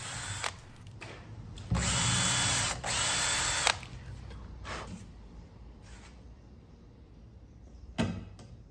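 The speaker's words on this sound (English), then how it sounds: "make sure you use a 1/16 inch bit to make a quick pilot hole for the screws" A power drill with a 1/16 inch bit bores pilot holes for screws in a coffee table build, whining in two short close bursts separated by a brief pause, followed by scattered taps and clicks.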